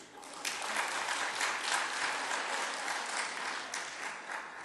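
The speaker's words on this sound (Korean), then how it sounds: "우리 찬양대회에서 박수도 한번 하시겠습니다." Church congregation at a Korean presbyterian Sunday service in New Jersey clapping for the choir, a dense sustained round of applause filling the room, moderately distant and with no voices over it.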